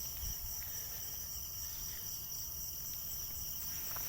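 Grasshoppers chirp in a backyard beside a house, a faint, continuous high buzzing with no voices.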